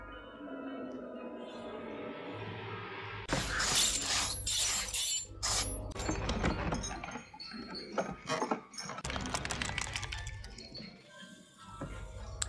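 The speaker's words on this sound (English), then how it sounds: "the clinking and clattering of that rotating pillar and the twinkly music" Metallic clinking and clattering of a rotating pillar mechanism from the film Hellraiser (1987), with ratcheting clicks over a low hum and faint tinkling music in the background.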